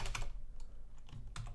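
Computer keyboard typing while a compiler is being programmed, a few quick key clicks in short bursts, fairly close and moderately loud with no talking.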